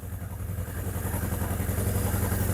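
A Suzuki GS750 motorcycle engine runs steadily up close, a loud, rhythmic low-pitched putter that holds even through the short stretch, with no talk over it.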